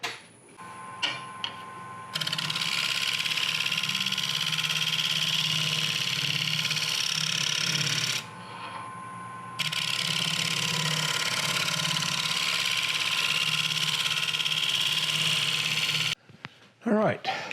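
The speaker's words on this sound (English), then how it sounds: "I'm going to switch to my dedicated shear scraping tool, carbide tip blade that I just sharpened." A carbide-tipped shear scraping tool is drawn across spinning wood on a lathe in two long passes, giving a steady hissing scrape over the motor's hum, close and fairly loud, with brief pauses between the passes.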